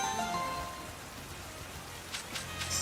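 Rain weather falling during a Pokémon video game battle makes a steady, even hiss throughout, with a few brief brighter splashes near the end and no voices.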